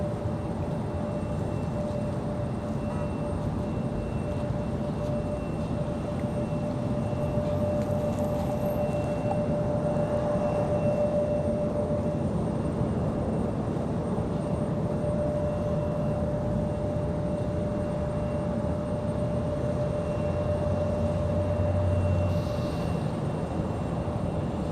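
A JetBlue Airbus A220-300 airliner comes in to land at Raleigh Durham airport, its engine drone steady and fairly distant, with a faint sustained tonal whine running through it and no talking.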